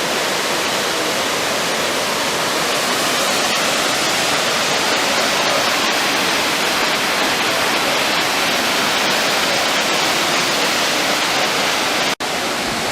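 A waterfall pours into a pool in a canyon near Pınarbaşı, Cide, producing a loud, steady, broadband roar of rushing water that stays constant throughout, with no voices.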